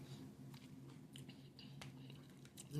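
Someone chews the crunchy ends of a breakfast food up close, producing soft, irregular crunches and bites over a quiet, steady room hum.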